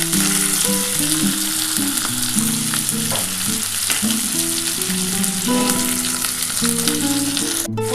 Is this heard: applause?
no